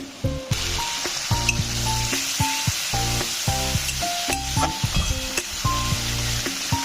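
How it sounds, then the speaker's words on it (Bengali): Onions frying in hot oil seasoned with panch phoron and dried red chilli, a steady loud sizzle with repeated stirring scrapes and clinks of a spatula against the pan, no voices. "গরম তেলের মধ্যে পাঁচ ফোড়ন আর শুকনো লঙ্কা ফোড়ন দিয়েছিলাম তারপরে পেঁয়াজটা ভাজতে দিয়েছি"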